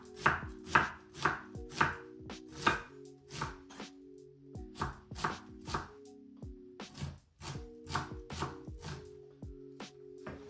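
A knife chops onions on a cutting board for a village-style Bulgarian moussaka: steady runs of sharp, close chops with a short pause midway, then chopping resumes over a faint background hum.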